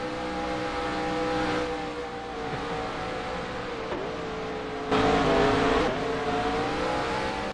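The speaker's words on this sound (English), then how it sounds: "Everyone trying to do burnouts at once here." Race cars at Charlotte after the Coca-Cola 600 rev hard in a sustained roar while doing burnouts, with a steady engine drone that surges louder toward the end.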